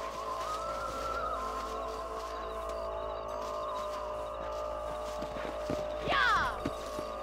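Horse hooves galloping in the video game Red Dead Redemption, a steady run under continuous game music and ambience, with a sharper burst of sound near the end.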